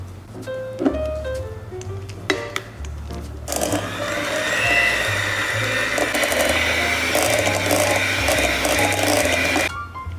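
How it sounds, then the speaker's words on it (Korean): A few clinks and clatters, then an electric hand mixer whirs steadily through custard cream for about six seconds before stopping abruptly. "얘를 다시 핸드믹서로 돌려서 부드럽게 만들어준 다음에 사용할게요."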